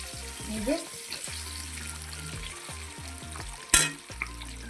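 Eggs fry in oil in a pan while cauliflower and egg curry is cooked, a soft continuous sizzle with a low background hum, one louder clatter near the end, and no clear talk.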